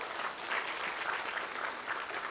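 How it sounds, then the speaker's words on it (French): Steady applause from an audience, heard at a distance with an even, sustained wash of clapping and no voices. "On peut l'applaudir."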